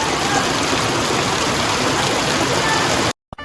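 Steady rushing rainwater runoff after heavy rain, like a strong stream, fills the clip loudly and continuously before cutting off abruptly near the end.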